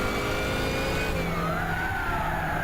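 A Chaparral 2J race car engine in Gran Turismo 6 at Laguna Seca drones steadily and loud, its pitch sliding down and then climbing again through a gear change, with no talk.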